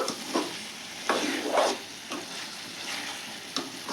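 Ridge gourd and tomato curry cooks in a pan, with a steady sizzle broken by several scraping stirs of a spoon against the pan.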